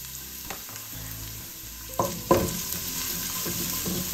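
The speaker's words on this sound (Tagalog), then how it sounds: "Lagyan na natin ng bawang. Gusto ko po sa bawang golden brown." Garlic frying in hot oil for papaitan, a bright crackling sizzle that swells louder midway as it is stirred, with a few clinks and scrapes, close and without speech.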